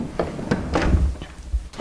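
A cabinet door held by magnets on a table saw cabinet, the router box door, shuts with a few close, dull wooden thunks and taps in quick succession.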